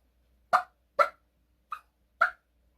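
A wild turkey gives an alarm call after spotting a hunter: four short, sharp, putt-like notes spaced about half a second apart, fairly faint over a quiet outdoor background.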